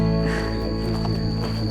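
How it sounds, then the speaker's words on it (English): An Epipedobates tricolor poison dart frog from Ecuador living in a greenhouse gives a steady high-pitched whistling call, close and continuous, over a constant humming background. "the poison dart frog from Ecuador. He's the one that lives in the greenhouse and makes this whistling sound we hear all the time."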